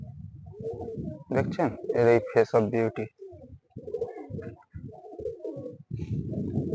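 A restless flying-breed carrier pigeon coos in low, throaty calls at the start and end, while someone talks loudly over the middle.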